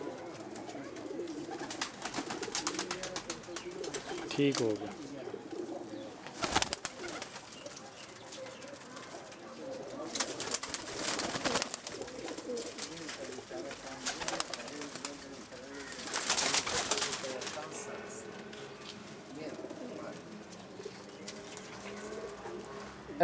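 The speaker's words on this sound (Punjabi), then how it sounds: "ਇਹ ਬਾਈ ਜਾਨ ਸਾਡੇ ਘਰ ਦੇ ਸਲਾਰੇ ਕਬੂਤਰ ਹਨ" Salara pigeons kept at home coo softly and repeatedly in the background while people talk nearby, with occasional louder rustles and bumps.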